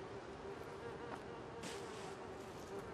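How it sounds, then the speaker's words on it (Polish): Flies buzz steadily and quietly in the Little Nightmares II game, a continuous insect drone with no talk over it. "Aż muchy normalnie latają."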